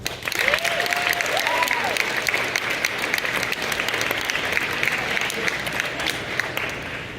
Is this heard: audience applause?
yes